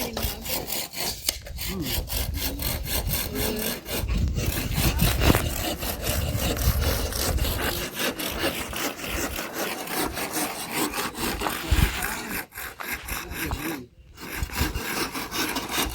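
A wooden post for a kitchen is notched by hand, with close, rhythmic rasping strokes biting into the wood in a steady run and a couple of brief pauses.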